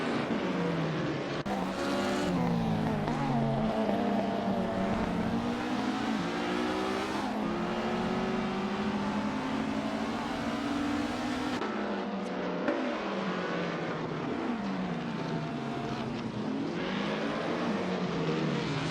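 Several 1950s Formula One race cars in a video game, driven by AI around the Bahrain Circuit, roar continuously with engine pitch rising and falling through gear changes, loud and close with no speech.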